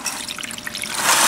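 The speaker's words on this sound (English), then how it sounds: "what we're going to do now is just pour the Evapo-Rust off" Evapo-Rust rust remover being poured off soaked plated parts, a steady close trickle and dribble of liquid that swells into a fuller stream toward the end, with no talking.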